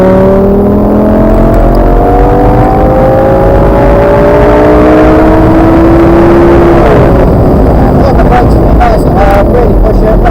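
A 560 hp Lamborghini accelerates hard around the Top Gear track, its engine note climbing loud and continuous through rising revs, easing briefly around a gear change before pulling strongly again.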